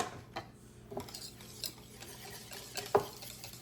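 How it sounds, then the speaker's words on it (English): Crepe batter being whisked in a bowl, soft and fairly quiet, with irregular light clinks and scrapes of the whisk against the bowl and no talking. "Keep whisking."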